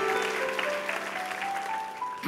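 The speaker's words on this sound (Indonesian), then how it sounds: "Beri tepuk tangan dulu bagi Allahmu yang luar biasa." A church congregation claps together during a sermon, a loud, continuous burst of applause with a faint tonal hum running beneath it.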